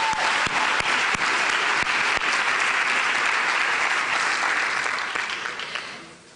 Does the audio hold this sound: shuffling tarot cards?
no